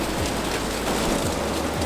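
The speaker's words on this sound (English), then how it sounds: "really raining outside" Heavy rain falls steadily outside a canal boat with a Viking bow, a dense, even hiss drumming on the hull and roof without a break. Nobody speaks.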